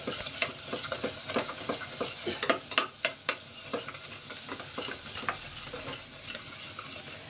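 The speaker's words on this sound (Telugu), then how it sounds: "పచ్చివాసన పోయేంత వరకు వేయించుకుని" Ground masala for a mutton chana dal curry fries and is stirred in a pan, with steady close sizzling broken by repeated spoon scrapes and clinks throughout, no talking.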